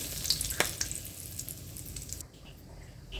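Whole cumin seeds and bay leaves sizzle in hot oil while cooking country chicken, a steady close crackle with a few sharp pops early on, easing to a softer hiss.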